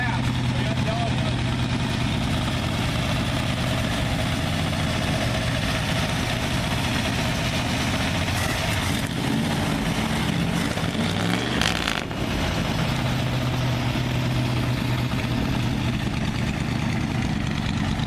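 An old International Harvester 1210 truck engine idles steadily and loudly nearby with the choke on, a continuous low rumble with a slight uneven chug throughout, and a brief voice midway.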